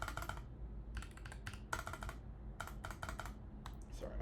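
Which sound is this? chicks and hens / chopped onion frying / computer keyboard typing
computer keyboard typing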